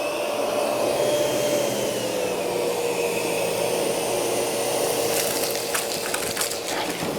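A SEBO Airbelt D1 canister vacuum cleaner roars steadily up close, then rattles and crackles as it sucks up Cheerios near the end.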